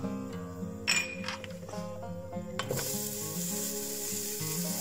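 Bacon sizzling in oil in a casserole pot for a Hungarian veal goulash, a steady bright frying hiss rising midway with scattered pops and clinks of stirring, fairly close and without voices.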